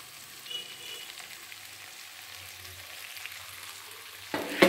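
Mint leaves frying in a pan with red chillies for a tomato chutney, giving a soft, steady sizzle at close range that ends in a sharp, loud burst of crackling.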